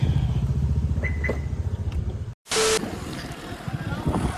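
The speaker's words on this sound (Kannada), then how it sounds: "ಬೈಕ್ ಮೇಲೆ ಚೆನ್ನಾಗಿ ಹೊರಟಿದ್ದೀವಿ" Motorbike ride outdoors, a close, loud, steady engine drone with pulsing rhythm, briefly dropping out mid-clip before resuming.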